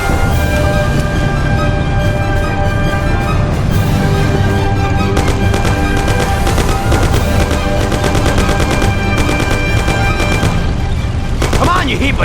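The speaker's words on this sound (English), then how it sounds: "You and Sam shoot them!" Loud sustained automatic gunfire and rattling shots in the video game Mafia, dense and unbroken, mixed with engine noise and shouted voices.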